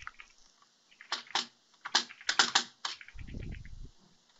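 Hard, forceful typing on a computer keyboard during a Minecraft session, heard as clusters of sharp key clacks in an uneven rhythm, close and fairly loud, with a low rumbling thump near the end.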